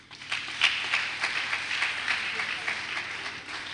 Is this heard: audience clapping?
yes